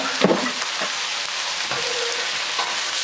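Celery, carrot, onion, capsicum and mushrooms fry in a pan with a steady close sizzle, broken by a few stirring clatters near the start.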